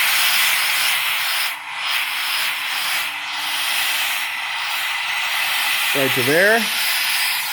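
Gas from a CO2 tank hisses steadily through an opened valve and regulator while tires are aired up, a constant close rush with a brief spoken remark near the end.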